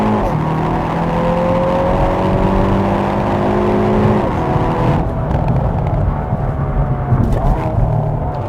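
A Hyundai Veloster N with a dual-clutch transmission launches from a stop to 60 mph on a rainy day, its engine rising loudly in pitch through several quick gear changes.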